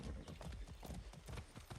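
Horse hooves clip-clop in a steady, brisk rhythm on hard ground in the video game Far Cry 6, close and continuous against a soft outdoor ambience.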